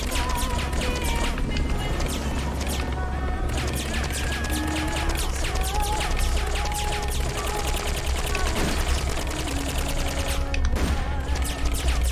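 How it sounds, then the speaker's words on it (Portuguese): Dense, continuous gunfire and rapid automatic bursts from the video game Metal Gear Solid: Peace Walker, loud and unbroken throughout, with layered impacts and crashes in a chaotic battle. "Ai, Snake, acerta o tiro, pelo amor de Deus"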